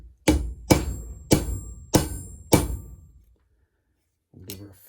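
Five heavy, sharp hammer blows setting a rivet in a workshop, struck in an even rhythm close to the microphone, each ringing briefly before the next, then a pause and a faint knock at the end.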